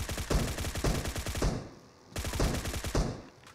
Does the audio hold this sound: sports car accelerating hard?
no